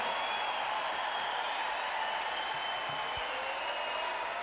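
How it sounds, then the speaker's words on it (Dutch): A large concert audience at a show applauds in a steady, even wash of clapping that holds throughout, heard alone without talk. "geef ze een grote applaus"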